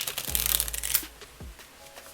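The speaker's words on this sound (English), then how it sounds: "I'm gonna just try to shuffle it" A quick burst of tarot card shuffling, a dense riffling flutter for about a second, then a brief soft tap and quiet handling.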